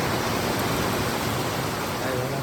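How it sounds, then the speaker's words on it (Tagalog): Steady rain roars as a thick, constant wash of noise, with a faint murmur of a voice near the end. "Ay, walang tigil yung ulan mga bossing."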